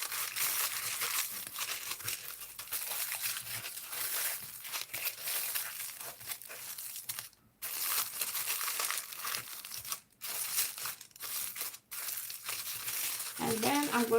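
Aluminum foil crumpled, crushed and folded by hand while shaping a mushroom figurine form. A close, steady crinkling and rustling runs throughout, broken by a few brief pauses.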